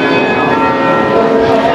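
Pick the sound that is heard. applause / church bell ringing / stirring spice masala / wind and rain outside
church bell ringing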